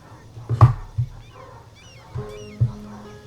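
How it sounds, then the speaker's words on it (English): Dogs barking and arguing outside, a few muffled, distant barks and yelps in separate bursts, heard faintly from indoors. "I know if you can hear those dogs arguing outside."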